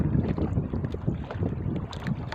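Wind gusts rush across an open microphone outdoors near water while fishing, a steady low rumble with soft fluttering.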